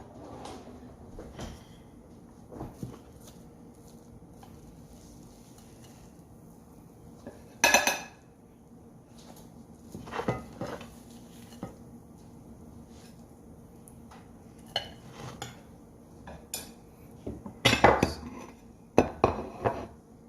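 A big spoon clinking against dishes while food is plated in a professional kitchen, sparse sharp metallic clinks and clatters at irregular intervals over a quiet background hum.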